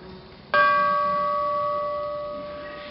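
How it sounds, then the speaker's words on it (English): A single bell struck on a 1916 Ahrens-Fox Model BT vintage fire pumper built in Cincinnati, Ohio, shown at the Marconi Museum; one clear, loud ring with a long, slowly fading metallic tone, alone. "Ring that dinner bell."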